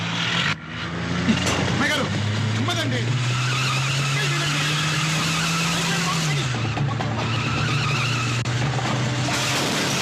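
A car engine drones steadily with a shifting pitch as the vehicle drives, tires briefly squealing, while voices talk over the motor.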